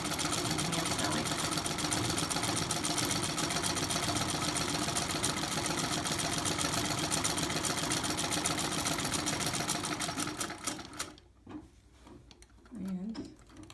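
An antique 1911 treadle sewing machine, a Singer 27 clone, runs steadily with a fast mechanical clatter for about ten seconds, then stops abruptly, leaving quiet handling sounds and a brief voice.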